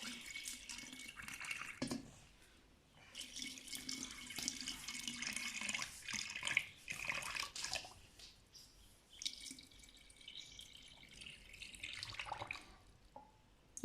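Boiled plain water being poured into a battery, a steady trickling and dripping stream that runs for most of the stretch with brief pauses, close and clear, with no voices.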